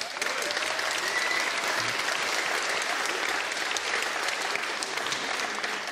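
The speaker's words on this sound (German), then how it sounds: "Ich darf Ihnen vorstellen mit einem großen Applaus" A crowd claps steadily and loudly throughout, with no break in the applause.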